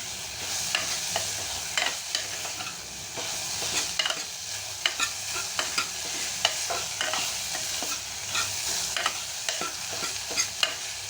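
Onions fry and sizzle in hot oil in a pan for a Tamil mutton bone curry, with steady crackling and repeated scraping stirs at a regular rhythm close by, with no talking.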